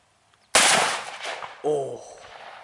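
A single loud gunshot at an outdoor shooting range, with a sharp crack that rings out and decays, followed moments later by a brief tonal ring or echo.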